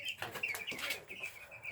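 Chickens on a chicken farm, with several birds clucking and chirping steadily and close by, short overlapping calls repeating throughout.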